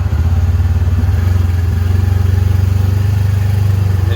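Kubota Sidekick 850 utility vehicle engine idling along in low gear, a steady, close, even low drone with a rapid regular pulse and light mechanical clatter, no voices.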